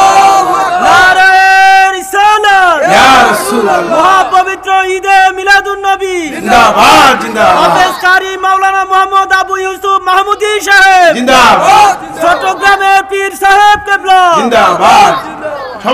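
A large crowd at a Bengali Islamic sermon shouts Allahu Akbar in loud unison, the call and response coming in several sweeping, overlapping waves of massed voices.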